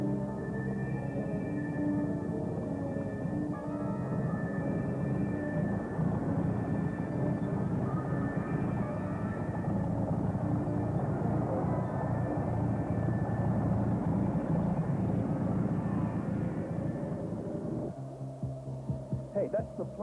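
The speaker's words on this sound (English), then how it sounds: "Hey, that's the plane I chartered." Propeller airplane passing overhead outdoors near a lakeside boathouse, a loud sustained droning roar that swells and holds before cutting off near the end.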